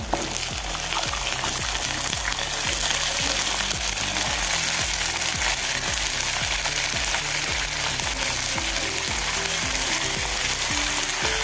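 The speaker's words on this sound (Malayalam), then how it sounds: "ഇനി ക്യാപ്സിക്കം ഇട്ട് കൊടുക്കണം" Capsicum stir-fried in a pan sizzles loudly and steadily, with a rhythmic series of stirring scrapes and clatters running throughout, close and without talk.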